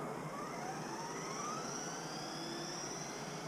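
A GPTOYS McGruff 926 RC truck's electric motor runs at full throttle, a steady hissing whine with faint rising and falling tones, constant level and fairly quiet.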